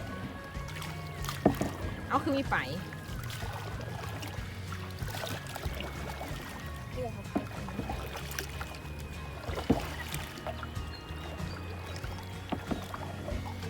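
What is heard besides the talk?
paddling a canoe on water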